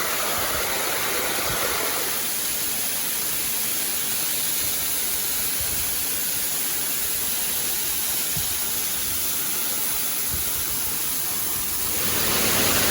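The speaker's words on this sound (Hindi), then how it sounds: "मैं कभी वाटरफॉल के अंदर तो ऐसे नहीं चला हूं." Water falls loudly and continuously in a waterfall as someone walks through it, a dense, close rushing roar that stays steady throughout the clip.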